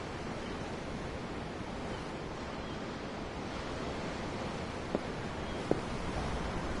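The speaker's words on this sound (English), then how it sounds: "I'm looking at the ocean." Ocean waves in the video game Tales of Arise wash steadily as a soft, even surf hiss with faint wind, joined by two tiny clicks near the end.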